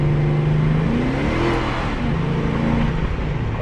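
A car engine revs hard while dropping down from fourth gear on a smooth road, a loud, steady drone with the pitch sweeping up and down for a few seconds, no talking over it.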